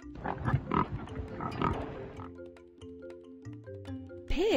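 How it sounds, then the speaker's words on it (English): A pig grunts and oinks in a few short, close bursts over a light musical backing in a kindergarten animal-names puzzle, followed by brief sustained musical tones. "Pig."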